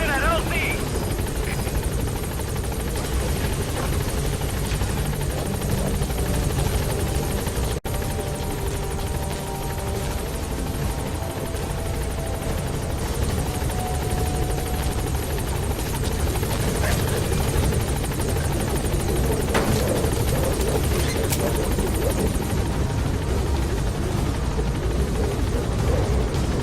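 A helicopter from Metal Gear Solid V flies steadily with a loud, continuous rotor chop and engine whine, close and constant throughout, with faint background game music beneath.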